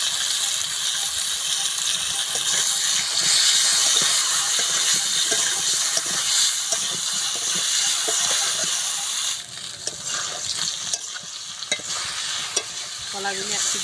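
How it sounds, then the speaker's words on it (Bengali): Pieces of raw green banana fry in hot oil with turmeric and salt, giving a continuous close sizzle and hiss, with occasional scrapes and stirring clatter as the pieces are turned. "কলাগুলো এক পিঠ ভাজা হয়ে গেছে"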